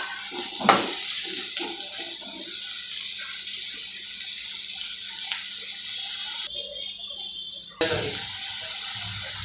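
Bottle gourd fry stirred in a pan over steady sizzling hiss, with occasional scrapes and knocks of a spoon, close by, the noise dropping briefly before resuming.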